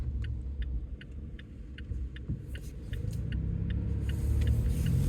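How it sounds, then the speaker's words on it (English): A car drives past in the opposite lane, its low road rumble swelling as it nears, steady engine and tyre drone with a faint regular ticking throughout, no voices. "that car was just coming down straight at me in the other lane"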